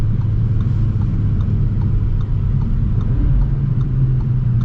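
A 2023 Audi RS3 in RS performance mode gives off a steady, fairly loud engine and road rumble from inside the cabin, continuous with no voices.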